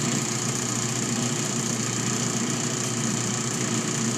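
A motorized sharpening and buffing wheel hones a carving knife, giving a steady, loud, unbroken mechanical hum with a high whine, constant for the whole stretch.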